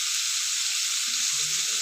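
Whole garlic cloves sizzle in hot oil while rice is fried, a dense, even, close hiss that holds steady throughout, with a faint low clink near the end.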